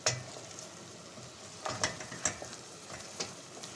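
Eggs cooking in a pan for Mardin-style egg pasta, a soft sizzle running throughout with several sharp scraping clicks of stirring spaced across the few seconds, close and fairly quiet, with no voices.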